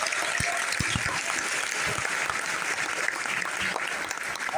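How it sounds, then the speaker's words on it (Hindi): Audience applause at a gathering, steady dense clapping from a crowd throughout, fairly loud and continuous with no talk over it. "ये सर के लिए जोरदार ताली।"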